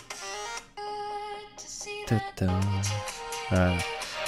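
Music with clear sustained tones and a pulsing beat plays through the stereo speakers of a Motorola Nexus 6 phone, fairly loud and close, with pauses and shifting sections and no talking over it.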